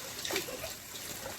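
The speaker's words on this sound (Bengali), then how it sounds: "বোতল ভরি আমরা বোতল।" Water running from a tap into a bottle being filled, a steady close splashing rush through the whole moment.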